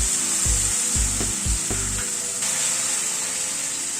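Spice masala with tomato paste fries for a fish kofta curry, a loud continuous hiss and sizzle with a few low scraping stirs early on, then steady frying alone.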